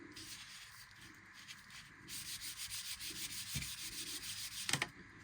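Sandpaper rubbed by hand along wooden bow sticks for a bowed psaltery, in grits from 180 up to 400, giving a steady rhythmic scratchy rasp of repeated strokes at close range with no talking.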